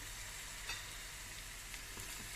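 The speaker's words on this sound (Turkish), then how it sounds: "Evet biraz da böyle havuçla birlikte kavuralım" Carrots sizzle in a pan for kısır, a quiet, continuous frying hiss with a few faint stirring clicks and no talking.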